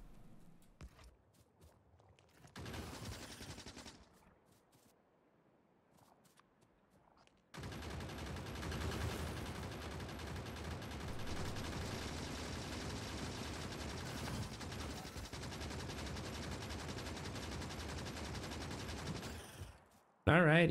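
Automated turrets in Factorio fire on alien buildings, a dense, sustained rattle of rapid shots that kicks in after a quieter stretch and runs steadily for over ten seconds before cutting off abruptly.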